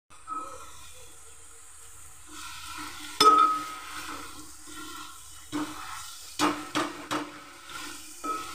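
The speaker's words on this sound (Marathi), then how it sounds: "दोन्ही भाज्या मिक्स करून थोड्याशा फ्राय करते." Wild greens and fenugreek leaves stir-fry in a pan, a faint soft sizzle under scattered metallic clinks and scrapes of a spatula against the pan, quiet and close.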